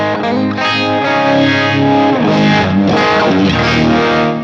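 Heavily distorted electric guitar through an amp modeler chugging thick, saturated chords, loud and dense throughout with no voices.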